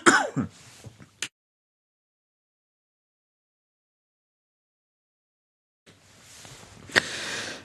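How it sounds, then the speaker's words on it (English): A person clears their throat and coughs close to the microphone in two short bursts separated by several seconds of silence. "I've just got a cough coming through now."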